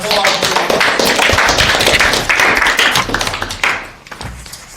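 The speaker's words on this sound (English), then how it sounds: "All right, everybody, a round of" Audience at a JROTC final presentation giving a round of applause, dense, loud clapping from many hands that tapers off toward the end, with a few voices mixed in.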